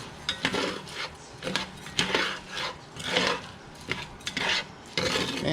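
A utensil stirs and scrapes a pan while it deglazes for jerk chicken and shrimp risotto, giving repeated rough scraping strokes and light clinks in a steady rhythm, close by with no talking.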